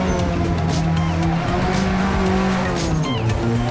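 Race car tires spinning and squealing in Forza Motorsport, a loud steady engine drone with tire screech layered on top, continuous throughout with no talking.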